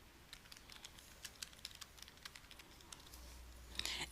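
Light typing on a computer keyboard, a faint, irregular patter of key clicks with a small burst near the end, alone in a quiet room.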